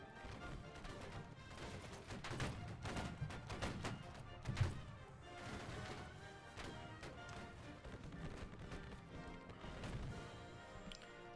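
Musket volley fire in the Battle Cry of Freedom video game, a run of sharp cracks and thuds at varying distances, with one louder near shot amid a continuous battle din.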